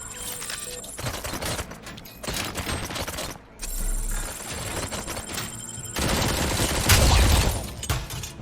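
Submachine gun fire in the video game RoboCop Rogue City comes in loud, close automatic bursts, separated by brief pauses, with clanking mechanical effects and impacts between volleys.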